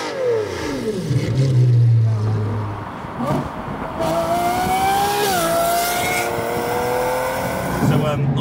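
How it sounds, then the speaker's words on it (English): A Lamborghini Revuelto fitted with a Gintani F1 stainless exhaust starts up warm and revs hard, rising and falling engine pitch with sharp blips, loud and close, with a voice briefly audible. "So now the engine is warm, I'm going to give you a quick startup."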